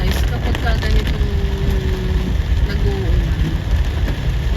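Rain patters steadily on a car while it is being driven, a dense continuous hiss mixed with road and engine rumble, fairly loud throughout.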